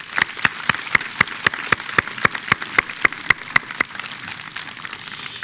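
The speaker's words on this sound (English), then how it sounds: "So how about a big round of applause" Steady rhythmic clapping of an audience honoring high school graduates at an awards night, sharp evenly spaced claps in a regular beat for about four seconds before fading out.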